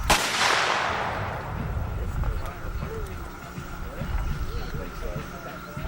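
A black powder cannon at a Civil War battlefield reenactment fires once with a loud booming blast that decays slowly, followed by open-air ambience and distant voices.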